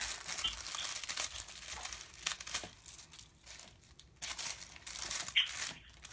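Scissors snipping and crinkling through mesh ribbon while trimming a bow to size, a series of crisp rustling cuts and crinkles, close and fairly quiet.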